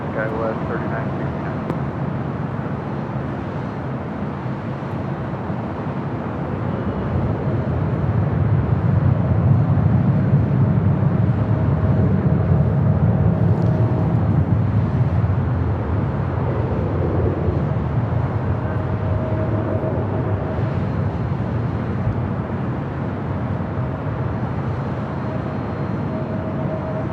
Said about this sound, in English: This is A380 number 4. Arrival on the stream here today.